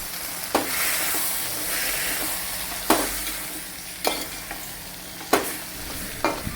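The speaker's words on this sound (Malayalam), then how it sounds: "നമ്മൾ വേവിച്ച് വെച്ചിരിക്കുന്ന ബീഫും കൂടി ഇതിലേക്ക് ഇളക്കാം" Tapioca and cooked beef being stirred in a hot pan in a home kitchen, with a steady sizzle under repeated sharp scrapes of a spoon against the pan at irregular intervals, close and fairly loud.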